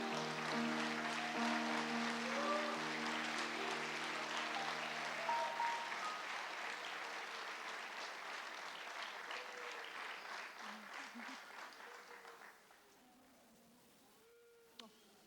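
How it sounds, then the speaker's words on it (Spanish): Church congregation applauding during a Spanish-language service, loud and sustained clapping that gradually thins out and fades to near silence toward the end. "Y yo quiero que todos ustedes le den una bienvenida con un caloroso aplauso"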